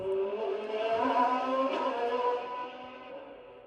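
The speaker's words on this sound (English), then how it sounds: "let the F1 cars fly by sound" Formula One race cars pass with a steady, loud, high-pitched engine whine that rises slightly mid-clip and then gradually fades.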